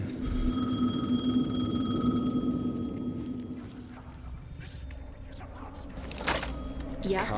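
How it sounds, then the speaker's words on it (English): A telephone rings steadily in Alan Wake 2, a tonal ringing heard clearly for the first few seconds before fading into dark ambient game sound and a voice. "The phone again."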